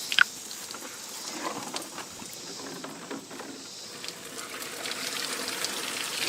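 Water pours out of a ballistic test container in a soft, fairly faint gush and patter that runs for several seconds, with a small splash near the start and no voices.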